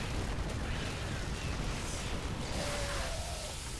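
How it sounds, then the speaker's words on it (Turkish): Zerg Baneling acid explosions in StarCraft II, a dense, rumbling wash of bursting blasts and battle noise that stays loud and steady throughout. "Banning'ler birer bomba gibi sevgili arkadaşlar. Asitli bir patlama yapıyorlar."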